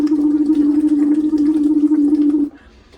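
A person blows through a tube held just below the water surface, making a steady, loud stream of bubbling that runs for about two and a half seconds and then stops abruptly.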